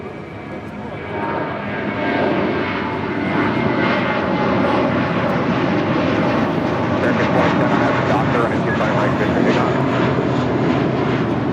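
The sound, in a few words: Spirit Airlines Airbus A320 arriving at LAX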